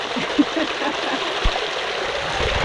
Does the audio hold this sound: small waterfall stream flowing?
yes